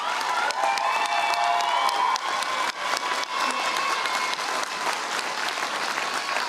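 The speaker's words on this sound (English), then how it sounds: "If you could please rise as we applaud you for your success." A college graduation crowd applauds honors candidates, sustained loud clapping mixed with cheers and shouts, a sung or sustained voice tone running beneath it.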